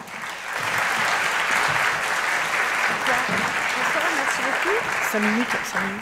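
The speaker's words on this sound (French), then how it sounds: "sous vos applaudissements" Sustained applause from an audience at a European CyberWomenDay event greets jury members, steady and full throughout, while a voice speaks over it toward the end.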